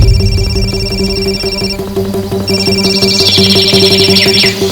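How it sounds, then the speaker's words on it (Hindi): Mobile phone ringtone playing loudly and close, a repeating electronic melody with a throbbing pulse that pauses briefly and then resumes. "मेरा फोन बज रहा"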